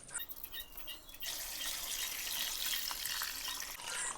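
Water poured into a DIY solar hummingbird bird bath fountain with rubber ducks: a faint drip first, then a steady, close rush of pouring water that continues to the end.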